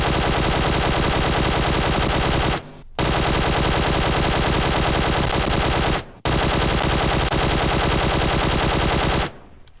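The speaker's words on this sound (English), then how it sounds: "I'm just going to fire a full auto magazine" Long full-auto bursts from a QBZ assault rifle in PUBG Mobile, three sustained streams of rapid shots with short gaps between magazines, loud and close with no talk.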